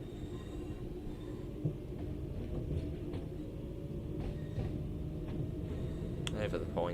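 Class 323 electric train in Train Sim World 4 rolling over points, a steady low rumble with light clicks of wheels crossing the junction, heard under intermittent talking.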